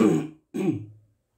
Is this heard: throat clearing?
yes